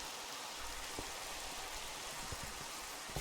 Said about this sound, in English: Now it's even raining.